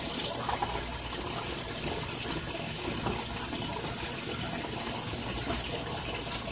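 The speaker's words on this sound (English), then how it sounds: "Okay, it's starting to trickle." Water from an aquaponics barrel drain runs in a steady, even hiss and gurgle, continuous and fairly close, with no voices over it.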